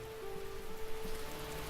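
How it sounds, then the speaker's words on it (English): Rain falls steadily outside in The Fruit of Grisaia visual novel, a soft continuous hiss of drops on surfaces with a faint tonal hum beneath, no voices. "It's raining outside."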